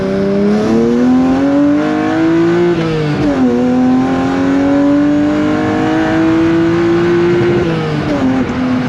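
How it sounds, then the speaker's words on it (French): A loud, close six-cylinder engine in a BMW E36 316i fitted with an M3 intake roars and revs continuously, its pitch climbing and dropping in steady waves with no talking. "on entend bien le 6 cylindres là qui gueule"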